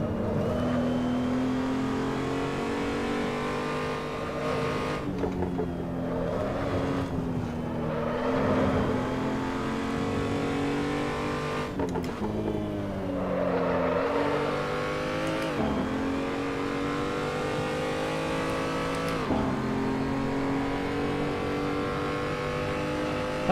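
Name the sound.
car driving on track in Assetto Corsa video game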